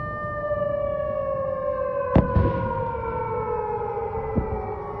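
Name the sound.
air defense sirens going off amid explosions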